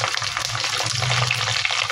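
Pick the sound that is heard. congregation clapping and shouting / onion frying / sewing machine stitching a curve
onion frying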